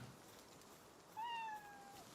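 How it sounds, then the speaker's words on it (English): A single short, faint cat meow rises then trails off over steady background noise in the Palworld video game, heard alone without talk. "something just meowed in my ear"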